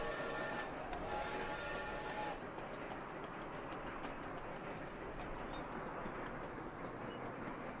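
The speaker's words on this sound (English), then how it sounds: "let's watch our coal train come in." Coal train arriving in the city-builder game Sweet Transit, a steady rumbling rail clatter with a softer, continuous hum after the first couple of seconds and faint chirps above it.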